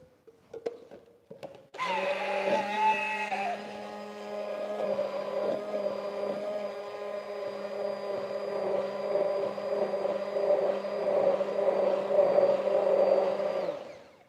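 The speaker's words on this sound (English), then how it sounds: "I'm going to be using an immersion blender." An immersion blender blending soup kicks on after a brief clatter and runs steadily at a loud, high-pitched whine for over ten seconds, with no talking.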